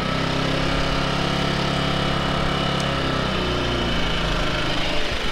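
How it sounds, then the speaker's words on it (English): A small Kings 2kVA portable petrol generator runs close by with a steady, droning engine hum, its pitch shifting slightly partway through, with no talking. "bring the revs up and down like all the other generators do"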